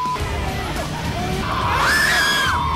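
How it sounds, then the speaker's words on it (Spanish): A crowd of people screams and shouts in desperation while trying to help a baby, a loud continuous babble of voices with a rising, piercing scream toward the end. "Los gritos y la desesperación de aquellos que con buena onda se intentaban acercar para ayudar a este bebé"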